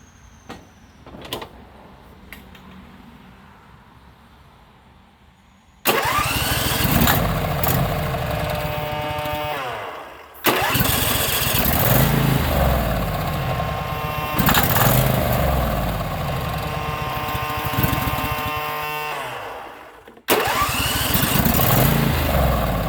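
A few quiet clicks and rattles, then a zero-turn lawn mower's small engine, sprayed with starting fluid, catches and runs loudly with a buzzing idle, cutting out and restarting twice.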